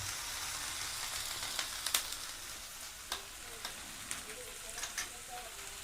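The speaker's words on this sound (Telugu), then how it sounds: "చక్కగా ఆయిల్లో ఫ్రై అవ్వాలి. అటు ఇటు కలుపుకుంటూ చక్కగా ఫ్రై అవనిద్దామండి." Okra frying in hot oil in a pan, a steady close sizzle with occasional sharp clicks and scrapes as the pieces are stirred back and forth.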